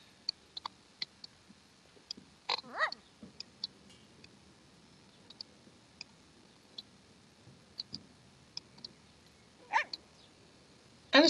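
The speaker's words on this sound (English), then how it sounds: "why is it barking?" Sparse, short yips from a small dog in a video game break a quiet background, scattered clicks and taps between them and a couple of louder barks.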